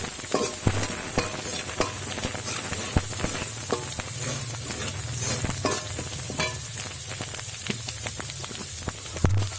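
Green chilies sizzle steadily in a hot pan for prawn malai curry, a constant frying crackle with the occasional clack of a spoon as they are stirred, close and alone.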